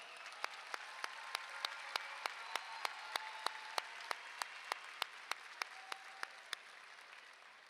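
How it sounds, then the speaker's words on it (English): A crowd at a high school graduation ceremony applauds from a distance: a soft, steady wash of clapping with a crisp, regular beat of sharper claps running through it before tapering off. "Let's give them another round of applause."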